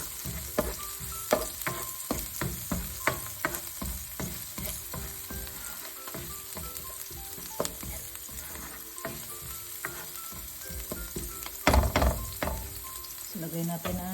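Tuna frying and sizzling in a pan with salt and pepper for a cherry tomato pasta sauce, a steady hiss broken by repeated clinks and scrapes of stirring, close and fairly loud throughout.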